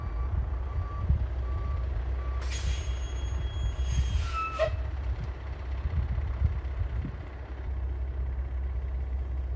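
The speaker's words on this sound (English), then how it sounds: "I love that the dump truck has a backup beeper." A dump truck's backup beeper sounds a steady series of evenly spaced electronic beeps while reversing, over a constant low engine rumble.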